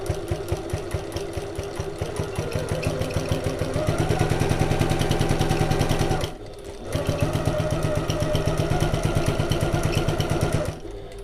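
Domestic sewing machine stitching fabric for a satchel, a rapid steady mechanical chatter that speeds up midway, stops briefly, then resumes at a fast even pace, close and loud.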